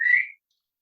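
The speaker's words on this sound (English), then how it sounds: "Whistling at me now." A single short, clear whistle, bright and close, lasting about a third of a second before silence.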